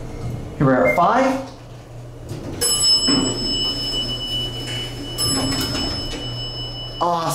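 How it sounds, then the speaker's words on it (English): A Dover elevator arrival bell in an office building, sounding as two bright ringing tones spaced a couple of seconds apart, each decaying slowly, with a person talking before and between them. "Awesome bell."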